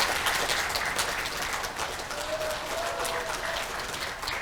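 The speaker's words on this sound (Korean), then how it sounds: "박수천 회장 큰 박수 좀 보내주세요." Sustained applause from a large audience in a National Assembly conference hall at a veterans' rally, honoring a chairman, dense steady clapping throughout with faint voices mixed in.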